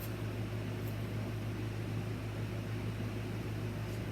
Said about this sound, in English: I'm going to turn that fan off, I think, for a minute.